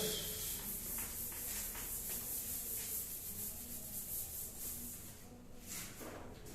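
A board eraser rubs writing off a classroom board during a Class XII physics lesson, a steady scratchy rubbing that runs throughout at moderate level with no talking.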